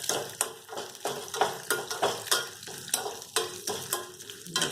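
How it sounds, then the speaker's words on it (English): Peanuts and roasted chana dal sizzle in a hot pan while being stirred, a steady fry broken by rhythmic scraping strokes about twice a second, close and without voices. "we'll put in some peanuts. So let this saute"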